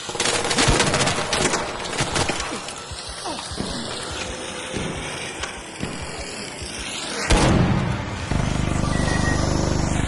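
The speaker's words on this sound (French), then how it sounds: "Il y a un type qui me tire dessus" Rapid gunfire in the ARC Raiders shooter game, bursts of automatic fire crackling densely and loudly with a rushing, noisy background and a brief surge of louder effects near the end.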